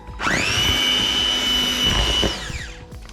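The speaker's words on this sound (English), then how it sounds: "I'm just going to give it a quick mix with the mixer." An electric hand mixer beats cream into a no-bake Malteser cheesecake mixture, a loud, steady, close whine that starts abruptly and winds down after about two and a half seconds.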